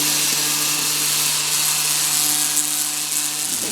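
An xTool MetalFab laser cleaning rust off metal gives a steady, close hiss with a faint electric whine and constant tonal hum, unbroken for several seconds before cutting out near the end.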